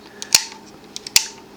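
A Peerflekta twin lens reflex camera shutter gives two sharp mechanical clicks about a second apart, each with a few small ticks around it. Both are close and crisp against a quiet background.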